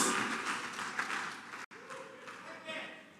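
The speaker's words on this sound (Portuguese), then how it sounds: "Pode aplaudir o Senhor mesmo" A church congregation applauds in a steady, dense wash of clapping with a brief cut partway through, fairly distant and mixed with voices.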